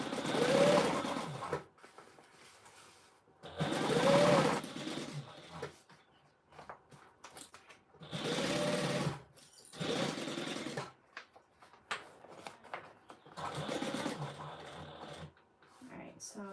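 Sewing machine stitching a Gabriella handbag in bursts of steady mechanical whirring, close and fairly loud, with pauses between runs and a person talking in between.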